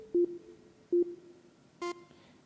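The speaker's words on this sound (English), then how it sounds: "So with a very light touch, I'm only getting the sine wave." Three short, pure sine-wave notes from an Osmose synthesizer played with a light touch, each clean and steady, spaced apart by pauses, the last one slightly brighter.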